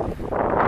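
Strong cold wind buffets the microphone outdoors in the countryside near Chascomús, a continuous low rumbling roar that swells slightly toward the end, with no voices.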